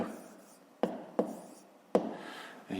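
A pen or chalk writing numbers by hand while solving a fifth-grade decimal multiplication exercise, heard as three sharp, separate taps over a quiet background.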